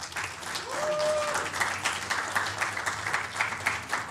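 Audience applause for an air rifle shooter at the European Championships in Wroclaw, Poland: steady, fairly loud clapping from a crowd that holds evenly throughout, with a brief tonal sound early on.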